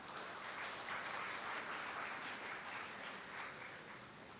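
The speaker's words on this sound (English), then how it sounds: "Ladies and gentlemen, Dr. Colin Young, a round of applause, please." Applause fills a hall at the Caribbean Community Climate Change Centre rebrand launch, a steady wash of clapping heard from a distance, even and fairly faint, tapering slightly at the end.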